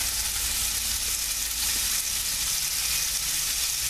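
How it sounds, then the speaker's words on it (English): Beef searing in hot oil in a pan for Yankee beef stew, giving a loud, continuous hiss and sizzle that holds steady throughout, with no talking. "When the meat's been seared, yep, you can tell that oil's nice and hot there."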